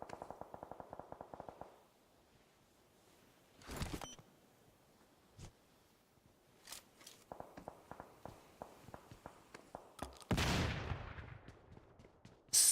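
Scattered gunshots in the mobile battle royale game PUBG Mobile: quick bursts and single shots at varying distances, separated by quiet gaps and footstep-like taps, with a loud sharp blast near the end.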